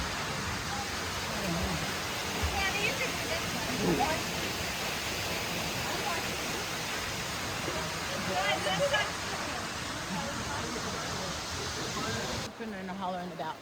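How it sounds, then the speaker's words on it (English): A waterfall in the Palm Springs hills rushing with a steady, broadband roar that fills the whole stretch, while people talk faintly beneath it. "closer to the waterfall."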